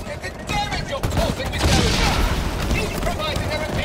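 Rapid gunfire in Halo Infinite aimed at a big enemy: dense, loud bursts of shots and booms rolling continuously, with voices underneath.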